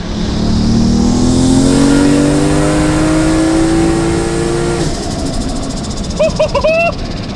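Single-turbo 1JZ engine in a Toyota Soarer revving hard with a rising engine note, then a rapid chattering turbo flutter as the throttle lifts, loud and close, followed by a few sharp chirps.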